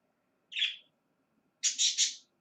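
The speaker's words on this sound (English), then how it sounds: "Chirp, chirp, chirp." Bird chirps, one short bright call followed after a pause by a quick run of three clear chirps, close and distinct against near silence.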